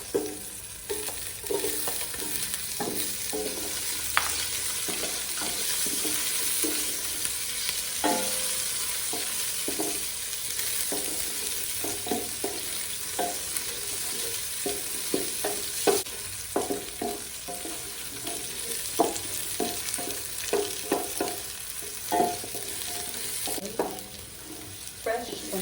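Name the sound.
onion sautéing in a pan for pork pochero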